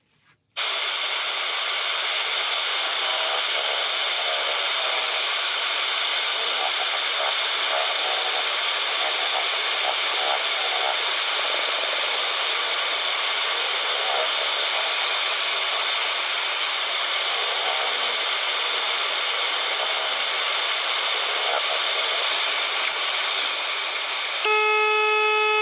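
Abrasive sanding of a birch end-grain vase spinning on a wood lathe, a steady close rasping hiss that holds evenly for about twenty-four seconds before shifting tone at the very end.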